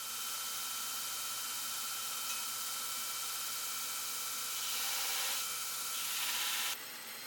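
A Damascus steel chef's knife blade is ground against a grinder in a steady, hissing, rasping stream that swells slightly near the end before easing off.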